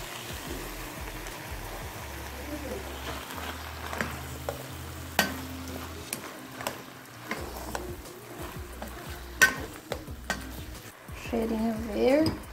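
Tomato sauce simmering with shredded chicken breast in a pan, heard as a low bubbling sizzle with repeated scrapes and taps of a spoon stirring, growing louder toward the end.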